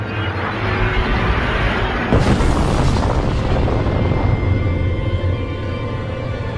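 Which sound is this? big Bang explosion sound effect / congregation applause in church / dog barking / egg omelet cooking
big Bang explosion sound effect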